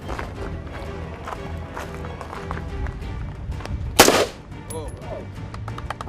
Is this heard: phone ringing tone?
no